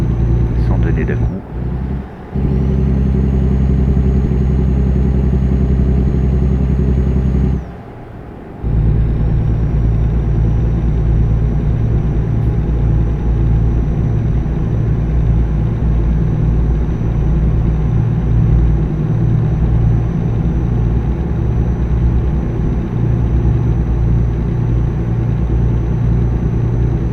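Simulated heavy truck in American Truck Simulator driving steadily with a loud, continuous low engine drone and rumble, briefly dropping out twice as it brakes into a turn before the engine note resumes, alone without talk.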